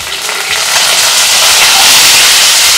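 Onion and green chilli frying in hot oil with cumin, urad dal, chana dal and curry leaves, a loud, close, steady sizzle that swells and stays intense.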